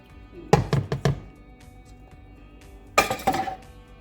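Apples go into a sourdough fritter batter in a bowl, two clusters of close clinks and knocks from dishes and utensils separated by a quiet pause.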